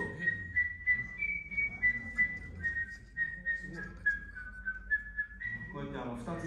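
Human whistling that aims to produce two notes at once: a clear, sustained whistled line held steady, then a short melodic run, close by over a low background murmur.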